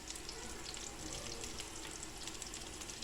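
Onion and garlic sauté together in butter, margarine and olive oil, producing a faint, even hiss of sizzling with no break.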